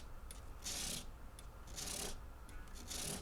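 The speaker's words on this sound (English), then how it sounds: "I'll finish off the crowning and polishing with my scrub block 320 grit sandpaper." Guitar frets on a Teisco EP-11T being crowned and polished with a 320 grit sandpaper scrub block, heard as three soft, raspy rubbing strokes in a steady back-and-forth rhythm, close and fairly quiet.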